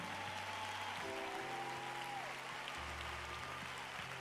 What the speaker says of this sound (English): would you clap your hands as they come?